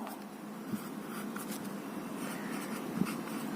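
Marker or chalk scratching across a classroom board while a map of Australia is labelled, a faint continuous scraping with light taps, no speech.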